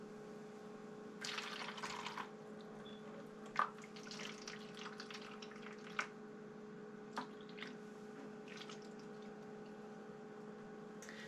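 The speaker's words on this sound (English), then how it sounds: "I'm going to add warm water to the bottom tray of this incubator." Warm water trickles and splashes softly into the bottom tray of a 16-egg incubator, a faint wet pouring with a few small drips and clunks over a steady background hum.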